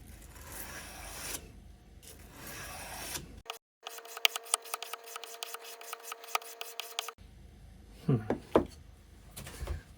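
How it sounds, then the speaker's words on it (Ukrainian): Steel knife blade being hand-sanded with 400-grit sandpaper in even strokes for a satin finish, a steady close rasping rub with a brief pause and a few sharper scrapes near the end. "І зараз я беру 400 наждачку."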